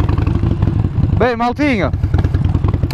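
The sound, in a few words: Harley-Davidson motorcycle engine running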